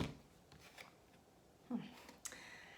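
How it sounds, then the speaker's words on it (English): Soft riffling and sliding of tarot cards being shuffled, a few brisk flurries with quiet pauses between them. "Let's shuffle a little more."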